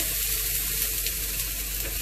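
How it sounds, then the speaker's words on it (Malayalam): Water sprinkled onto a hot griddle for uttapam sizzles in a steady, close hiss lasting about two seconds, with no voices. "അപ്പോൾ വെള്ളം തെളിച്ച് നോക്കുമ്പോൾ ചൂടായിട്ടുണ്ട്."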